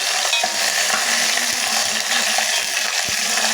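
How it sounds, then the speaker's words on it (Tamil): Crushed garlic sautés in hot oil with a loud, continuous close sizzle broken by a few light clinks and scrapes of a stirring utensil. "எண்ணெய் ஊற்றி நல்லா நசுக்கி வச்சுருக்க பூண்டு சேர்த்து நல்லா வதக்கி விட்டுக்கலாம்"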